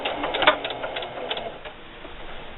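A sewing machine stitches a fabric holiday gift bag, a fast rhythmic clatter of needle strokes close by, loudest at the start and easing off toward the end.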